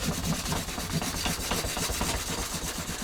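Fine 1200 mesh abrasive rubs across a wooden wheelwright's Jarvis plane, a steady close scratchy sanding with quick back-and-forth strokes and no talk.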